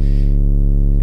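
A Teenage Engineering POM modular synthesizer patched through a low pass filter holds a steady, smooth, dark tone with the upper harmonics rolled off, a faint pulsing flutter running through it, alone and loud.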